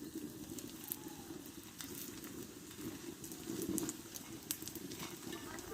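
Paratha frying in a little oil on a hot tawa, a steady dense sizzle and crackle throughout with small scraping bursts as the flatbread is turned.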